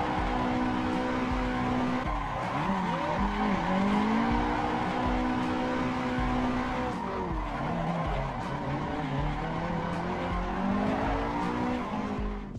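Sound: car engine and tire squeal during drift entry, racing video game

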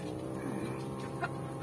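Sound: chickens clucking before feeding

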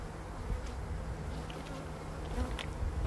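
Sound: honey bees buzzing in a hive

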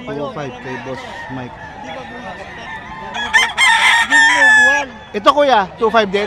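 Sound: stag rooster crowing at a pet market

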